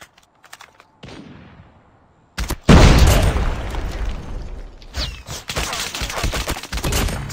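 Call of Duty Mobile combat: after a few sparse clicks and a quiet stretch, a loud grenade blast erupts, followed by dense bursts of close gunfire and rattling shots that continue to the end.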